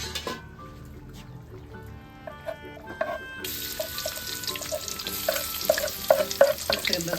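Shallots sizzle and crackle as they fry in a home kitchen while jengkol with yellow spice, jackfruit and tuna balado are cooked; the frying grows louder and denser partway through, mixed with stirring and clinks of utensils.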